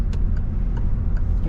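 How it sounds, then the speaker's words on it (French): Car turn signal ticking at a steady beat during a driving lesson, a few faint regular clicks riding over loud road and engine rumble inside the cabin. "Clignotant angle mort."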